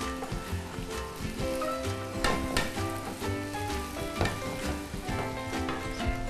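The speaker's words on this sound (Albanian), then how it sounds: "Do t'i skuqim edhe pak fare" Meat sizzles and fries in a pan for jahni, a steady close crackle with bursts of spatter and occasional stirring. No voices are heard.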